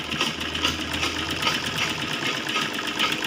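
Steady whirring sewing machine stitching along the fabric edge of a child's lehenga choli, a continuous rapid mechanical hum and rattle with no pauses, close up.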